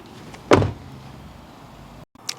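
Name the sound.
car door closing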